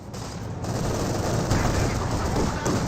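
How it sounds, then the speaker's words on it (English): A .50 cal machine gun fires in the Company of Heroes 2 strategy game, sustained dense gunfire with layered shots and battle noise, loud throughout, with a commentator's voice partly audible over it. "50 cal does fire first there on the Pioneers"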